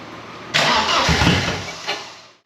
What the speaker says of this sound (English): It'll probably fire for a second here and then cut out.